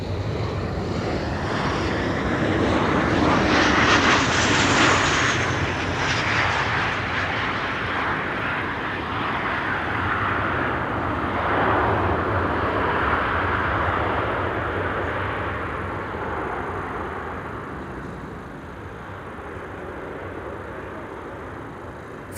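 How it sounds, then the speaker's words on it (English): A KLM passenger jet, arriving from Stockholm, roars in to land at Amsterdam Schiphol Airport, its engine noise rising to a loud peak early on, then rumbling steadily and fading slowly as the aircraft rolls away, with no talk. "KLM flight 1216. Arrival from Stockholm."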